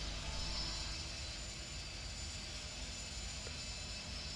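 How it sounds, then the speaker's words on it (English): Airbus airliner engines roaring steadily in a flight simulator game, a broad continuous jet drone held at an even, moderate level throughout with no talking. "here he comes in the Airbus"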